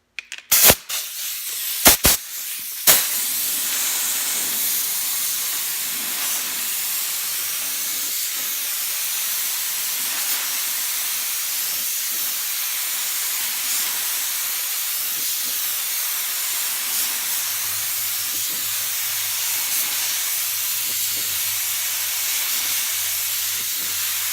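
A spray gun lays a second coat of primer on car bodywork in a long, steady hiss close by, after a few sharp clicks at the start, with no talking.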